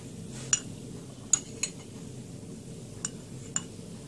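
Metal spoon tapping and clinking against a bowl while two tablespoons of milk are measured out, several light, sharp clinks spaced irregularly over a quiet background.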